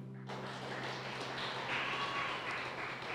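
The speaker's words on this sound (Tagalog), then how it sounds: "Ang mga sobrang minahal ng Diyos, pwede po bang pumalakpak kay Lord?" A church congregation claps together, a continuous, fairly soft wash of hands that begins abruptly and holds steady, with no one speaking.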